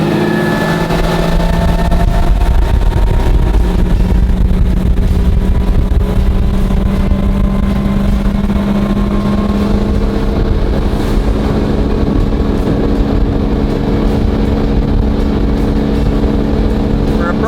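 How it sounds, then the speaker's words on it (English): A Vexus ADX200 bass boat runs flat out at top speed, its outboard engine a loud, steady drone under heavy wind buffeting and water rush. "this boat can perform at all speeds. Now let's check out the top end."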